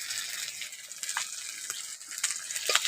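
Spices for a village-style prawn curry fry in a pan with chilli and turmeric powder, giving a steady soft sizzle with faint stirring scrapes and a few brief clicks throughout.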